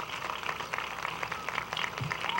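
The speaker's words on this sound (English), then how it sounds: "Round of applause for all of those sponsors, without whom we would not be here today." Outdoor crowd at a community fun run for fitness clapping for the sponsors, a soft, steady spread of applause heard from a distance without voices on top.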